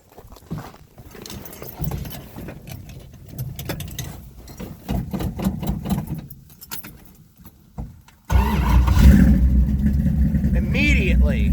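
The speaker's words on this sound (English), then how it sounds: "I'm gonna do cold start for you" A Mopar 340 V8 car, dirty and satin black, gets a cold start: keys jangle and rattle at length, then the engine abruptly fires and settles into a loud, rough, steady idle close by.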